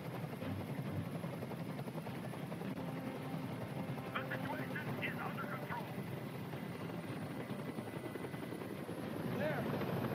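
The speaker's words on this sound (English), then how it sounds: "I can't stand that noise anymore. Tell that helicopter to get out of here." A hovering helicopter in the Detroit: Become Human game drones as a steady rotor rumble, continuous and moderately loud, with brief faint voices and effects over it.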